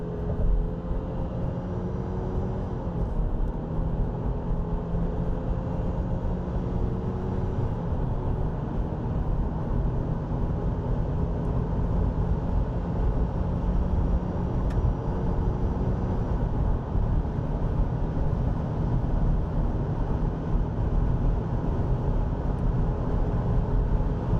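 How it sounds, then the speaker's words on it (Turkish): Subaru Forester e-BOXER accelerating at full throttle on a highway from about 90 km/h, a steady loud broadband rumble of engine, tyre and wind noise that holds constant throughout with no talk. "Şu an bakın 90 kilometredeyim. Tam gaz yapacağım."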